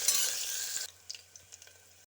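Onions dropped into hot oil with green chillies in a pan, cooking for a potato and green pea curry: a loud burst of sizzling that cuts off sharply, followed by quieter crackles and light clinks.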